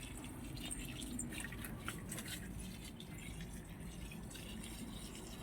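Water pours steadily from a container into a dry potted plant's soil on a sunny day in the rainy season, a soft continuous trickle and splash, quiet and close, with no talk.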